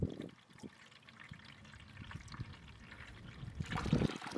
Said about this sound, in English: we're going to slowly pour it into the filters